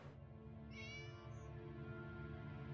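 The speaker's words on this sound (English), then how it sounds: "Normal meow." A cat in the Tales of Xillia 2 video game gives one clear, close meow lasting about a second. It rises over a soft, steady hum of game background ambience.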